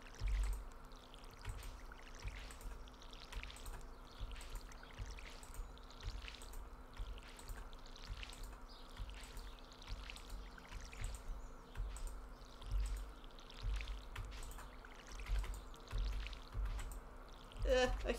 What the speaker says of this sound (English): Okay, let's see if I can water all these.